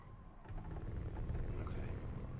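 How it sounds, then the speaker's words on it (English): A race car in GT Sport rolling over rumble strips, a faint, steady low rumble and engine drone for a couple of seconds. "Rumble strips."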